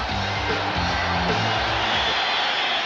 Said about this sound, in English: A very boisterous sellout crowd here in San Diego.